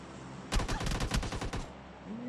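Video game gunfire rattles out as a rapid automatic burst of about a second, sharp and fairly near, followed by a quieter tail. No one speaks during it.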